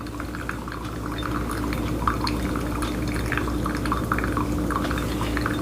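Hot water trickles and drips steadily into a Chemex brewer for Colombian coffee, a continuous close, soft liquid pour with small splashes and no talking.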